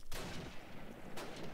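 Gunfire in Call of Duty 1 during a clan scrim: a couple of sharp, fairly faint reports, one at the start and another about a second later, against low background noise.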